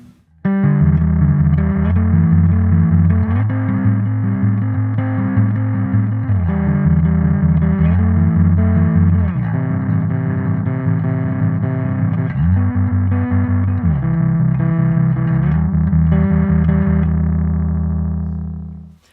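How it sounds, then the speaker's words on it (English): Heavily distorted bass guitar plays a sequence of sustained chords, gritty and loud, shifting every couple of seconds before ringing out at the end. "listen to the distortion and hear how you get some artifacts in there from some of the clashes of those upper register harmonics"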